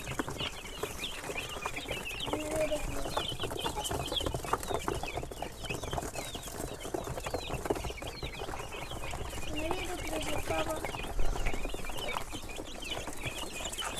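Chickens and chicks clucking continuously around a poultry vaccination, a busy flock with scattered calls of other birds, no clear talk, steady and moderately loud throughout.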